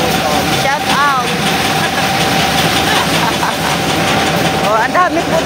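A water-cooled engine runs steadily at a rice-pounding site amid piles of unhusked rice, a loud continuous drone close by, with brief chirping sounds and faint voices in the background.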